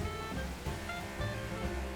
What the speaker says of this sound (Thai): โอ้คลื่นสูงมากครับ